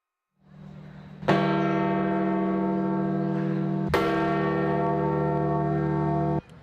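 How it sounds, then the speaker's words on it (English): Church bells toll in St. Peter's Square in mourning for Pope Francis: two loud, clear strikes a few seconds apart ring out over a low hum, each leaving a long, sustained resonance. "Bells tolled in St. Peter's Square, mourning the death of Pope Francis."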